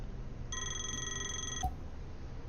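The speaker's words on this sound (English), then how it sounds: "You're gonna probably get a phone call." Phone ringing in the video game Play With Me: a single electronic ring lasting about a second, sounding fairly faint over a constant background hiss and ending with a soft click.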